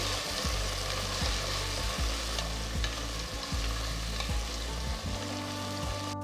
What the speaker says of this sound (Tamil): அடுத்து நறுக்குன 2 தக்காளி சேர்த்து 2 நிமிஷம் வதக்குங்க